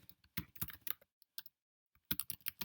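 Bursts of typing on a computer keyboard while entering commands into an Inform interactive fiction game, quick clustered clicks near and clear, with a short pause in the middle before a final flurry of keystrokes.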